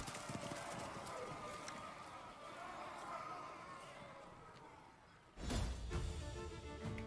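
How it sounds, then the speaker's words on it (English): Horse hooves clip-clop at a gallop with a neigh in the fantasy card game Thronebreaker: The Witcher Tales, a steady rhythm of hoofbeats over game ambience, then a sudden louder burst near the end. "Meave spurred her horse. It neighed and reared, and then the twain leapt into the fray."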